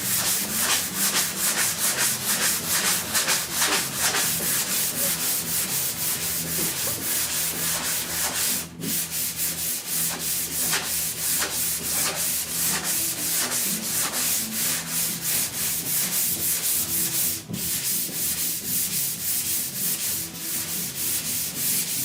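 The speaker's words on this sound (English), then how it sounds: "This is block sanding, folks." Steady, continuous rasping of a sanding block working primer-surfacer over a rust-pitted steel roof on a 1969 Chevrolet C10 pickup, with rhythmic back-and-forth strokes close up and loud, with no talking.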